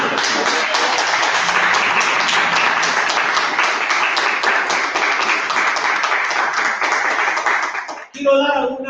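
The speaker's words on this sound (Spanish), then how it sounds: "Dale un aplauso al Señor." Congregation in a church applauding continuously and loudly for about eight seconds, a dense steady wash of clapping that stops abruptly near the end.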